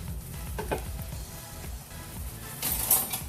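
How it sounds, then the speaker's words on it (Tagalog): A pot bubbles and sizzles steadily at close range, with occasional clinks and stirring noises over a continuous hiss. "So, heto na po, kumukulo na."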